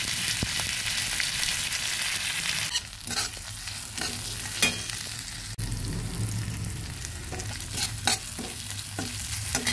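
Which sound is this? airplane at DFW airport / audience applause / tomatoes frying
tomatoes frying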